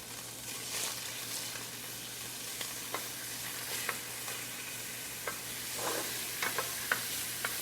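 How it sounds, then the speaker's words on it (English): Finely diced onions fry in hot oil in a pan, producing a steady sizzle broken by repeated light stirring scrapes. "You put some oil in the pan. Get it warm, get it a little hot. Then we're going to add some fine diced onions."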